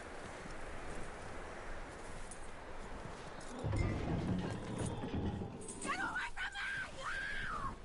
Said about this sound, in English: That looks like a decent horse. You should keep him.